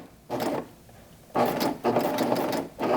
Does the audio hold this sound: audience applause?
no